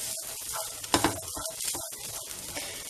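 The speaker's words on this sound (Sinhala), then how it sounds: "දැන් අපි මේක බත් ටික එකතු කරගෙන හොඳට කලවම් කරගන්න." Broccoli rice with egg sizzles and fries in a pan while being stirred, with a steady close crackle broken by scraping and clattering strokes of the spoon against the pan.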